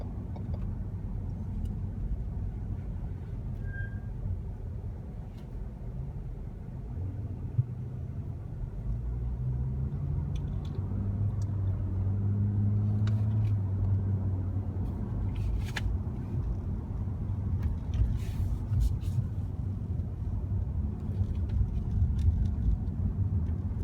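A car drives through city traffic on the way toward a major state highway, giving a continuous low engine and road rumble with occasional faint clicks and bumps, no talking.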